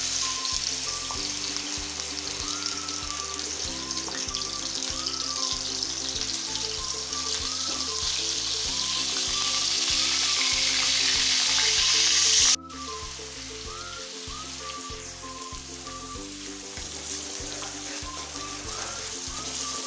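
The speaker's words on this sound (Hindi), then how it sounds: "जब ऑयल अच्छे से गर्म हो जाए तो उसमें 2 कप आपने चॉप किए हुए प्याज डाल देने हैं" Two cups of chopped onions frying in hot oil, a continuous sizzling hiss under steady background music, with a brief drop in the sizzle partway through.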